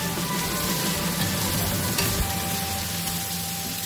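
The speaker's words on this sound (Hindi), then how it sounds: "मैंने अभी सब्जी डाली है और मूली कटी हुई, इन सभी को मैं मिक्स करूँगी" Cut radish and mixed vegetables being stirred in a frying pan, giving a steady close sizzle with scraping and stirring noises throughout, no voices.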